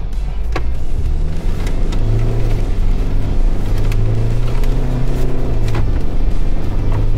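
A 2024 Mitsubishi Triton bi-turbo pickup with a six-speed gearbox accelerates hard, its loud engine drone holding steady and climbing through gears over constant road and wind noise, with no talking.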